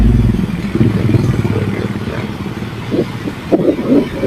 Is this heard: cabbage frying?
no